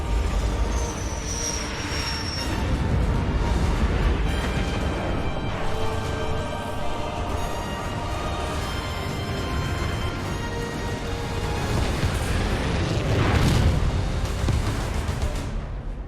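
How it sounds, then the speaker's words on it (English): Archer missiles launch and explode in the Halo Wars 2 battle, a loud, continuous roaring rush of engines and blasts that swells toward the end, with no talking over it. "Isabel, launch Archer missiles now!"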